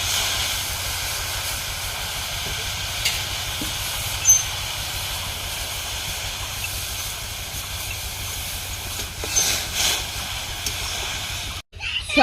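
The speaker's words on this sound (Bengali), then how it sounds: "এই গরম জলের মধ্যে সয়াবিনগুলো দিয়ে দেবো।" Soybeans simmer in hot water in a wok set on a lit stove, giving a steady, close hiss and low rumble of boiling that runs throughout, with a couple of faint clicks and a brief dropout near the end.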